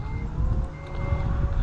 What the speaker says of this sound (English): But we'll close up the trunk here.